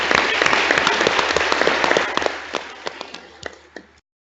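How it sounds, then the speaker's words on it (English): Warm applause from the audience at a workshop panel session, dense clapping filling the room before thinning into a few scattered claps and stopping. "now we would like to thank the panelists with a warm applause"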